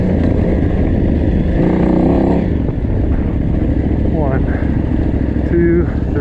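A KTM 990 motorcycle engine runs steadily at race pace in the Mint 400 off-road desert race, a loud continuous drone with rider speech over it.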